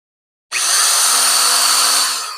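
A power drill runs steadily into a wooden armoire, a loud continuous high whine that starts abruptly and holds for about two seconds before easing slightly at the end.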